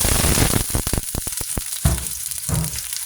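Onion and garlic sautéing in a pan for chicken adobo, a loud crackling sizzle with rapid spatters and stirring scrapes, close by and continuous with no talking.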